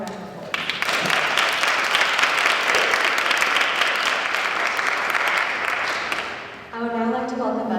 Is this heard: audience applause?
yes